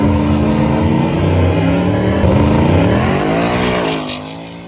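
A Ford Mustang with an independent rear suspension launches hard from a standstill, its engine roaring close and loud as revs climb steeply, then easing off near the end.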